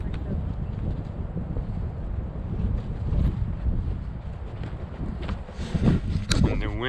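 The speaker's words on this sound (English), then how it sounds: "the wind is just blowing gentle and breezy like you would imagine hiking through the Sierras" Gentle, breezy wind blows steadily while hiking in the Sierras near Hat Creek, California, with a low rushing buffet of moving air that swells slightly toward the end.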